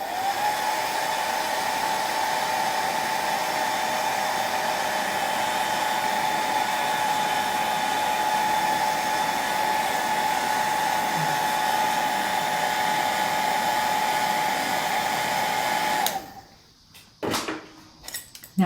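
A hair dryer runs close and steady, blowing hot air to quickly dry a watercolour painting of a hollyhock, a constant loud whir for about sixteen seconds before it switches off, followed by a few light clicks and handling sounds.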